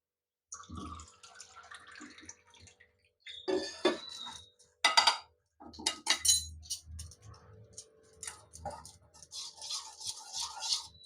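Water pours and splashes into a bowl of gram-flour fritter batter with red chilli, in bursts, mixed with clinks of a utensil against glass and stirring sounds, close and fairly loud.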